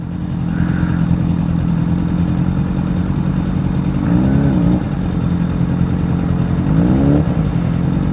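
A 500cc motorcycle pulls away and accelerates, its steady mid-pitched engine drone running continuously and rising in two separate surges as it revs.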